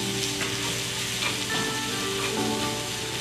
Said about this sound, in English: So I'm gonna be stir frying now